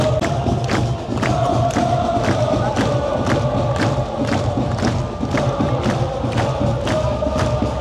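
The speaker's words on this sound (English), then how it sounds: "They're singing and chanting, and they're really getting the atmosphere going." Thai football ultras in a stadium section sing and chant at an international match against Syria, a dense crowd roar with steady rhythmic thumps of drums or clapping running throughout.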